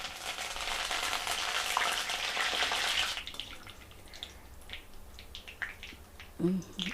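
Mustard seeds and curry leaves fry in hot oil for a brinjal sesame curry, a loud dense sizzle for about three seconds that then drops to quieter crackling and scattered pops.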